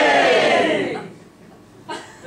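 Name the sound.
audience cheering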